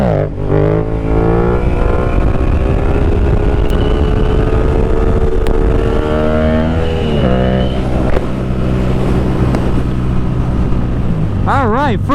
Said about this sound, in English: I will say this bike, for one, just sounds absolutely amazing